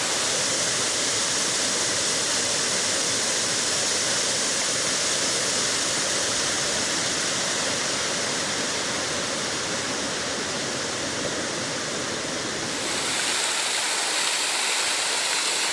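Water pouring over Somersby Falls in Brisbane Waters National Park: a loud, close, continuous roar of falling and splashing water, steady and broadband throughout, thinning slightly near the end.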